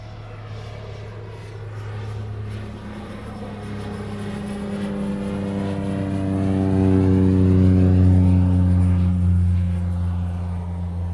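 A Hawaiian Airlines airliner departs Hawaii for Las Vegas, its engines giving a loud steady roar with a droning hum that swells and slowly shifts pitch.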